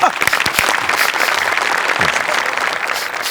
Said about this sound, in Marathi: एकदा टाळ्यांच्या गजरात त्यांचं उद्घाटन करूया. जोरदार टाळ्या.